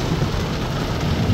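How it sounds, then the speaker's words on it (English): Dense, steady roar of torrential rain pouring down in Boca Raton without a break, loud and close, with no voices. "This is some heavy rain."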